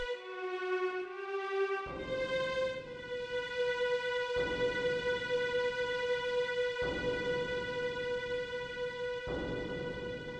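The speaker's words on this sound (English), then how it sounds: "Cloud and the gang get taken to prison only to wake up to music that sounds like this." Eerie prison wake-up music from the Final Fantasy VII game: sustained, droning synthesized tones with steady pitches, joined after a couple of seconds by a louder pulsing low layer that swells in repeating waves, with no talking.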